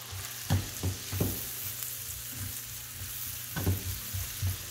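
Chopped onion sautés in melted butter in a pan for a quiche, a steady frying hiss punctuated by rhythmic scraping stirs and soft knocks of the utensil, close and clear.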